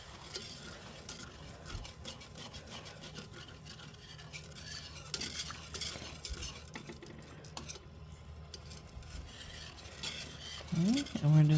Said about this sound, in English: we're just going to keep stirring it and cooking it